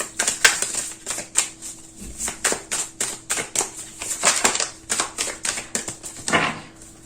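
Tarot cards laid one by one onto a table in a close, quiet room, giving a run of crisp snapping taps and soft slaps in an irregular rhythm, with a faint hum underneath.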